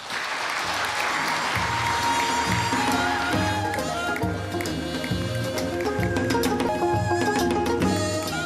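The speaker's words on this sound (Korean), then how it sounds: "대통령께 다시 한번 큰 박수 부탁드립니다" Audience applause for the South Korean president at a New Year address, sustained and loud, mixed with steady rhythmic music and a low repeating beat throughout.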